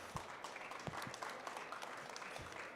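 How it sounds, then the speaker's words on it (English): Audience applause at a talk on Starship and a sustainable human presence on Mars, a steady soft patter of many hands clapping at a distance, fairly faint and continuous with no voices over it. "A round of applause for Kari."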